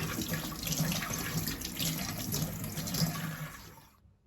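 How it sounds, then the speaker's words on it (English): Tap water runs in a steady close splashing rush over a freshly dyed lacrosse head as excess dye is rinsed off, then cuts to silence at the end. "always just give it a quick rinse, get rid of that excess dye"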